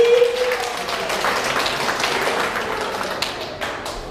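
An audience claps for a costumed guest dressed as a witch at a New Year's party in Corfu, the applause sounding as a steady, moderately loud patter that thins toward the end, with a few sharper claps standing out.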